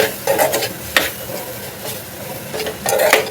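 Fenugreek leaf bhaji with coconut is stirred in a pan, a spoon scraping and rustling through the greens in short close strokes with light clinks, a soft sizzle underneath.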